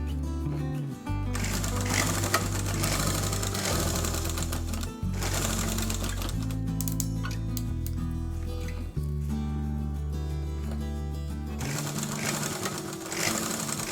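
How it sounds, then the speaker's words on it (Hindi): Electric sewing machine stitching a seam along a blouse sleeve, a loud steady needle drone with brief pauses at about one, five and nine seconds, close and alone. "उस पर पहले हम लोग सिलाई लगा लेंगे।"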